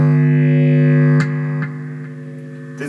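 Electric guitar through a humbucker pickup with very high distortion sustains a loud droning chord, then is cut off with sharp clicks, leaving a fainter buzzing hum that fades out.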